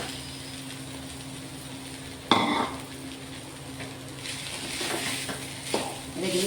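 Flattened rice poha is stirred in a hot pan with aloo, a spoon scraping and clattering against the metal while oil sizzles underneath, with sharper bursts of stirring near the middle and end.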